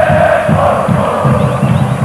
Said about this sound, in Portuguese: Mexe-se pelas arquibancadas do Parque Antártica, a torcida do Verdão, dando aquela força, incentivo total.